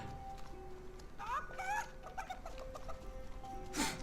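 A chicken clucks in the Destroy All Humans! video game, a few short clucks mid-level mixed with game music and effects.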